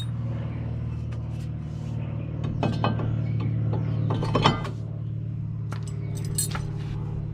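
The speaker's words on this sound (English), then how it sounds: "Now I'm going to be putting the rotor on." A brake rotor is fitted onto the front hub of a 2002 Toyota Corolla, producing scattered metallic clanks and scrapes clustered in the middle, close by over a steady low hum.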